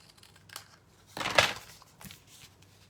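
Scissors trim card stock for a handmade citrus card, a brief close snip-and-slide burst in the middle between faint handling rustles, fairly quiet overall.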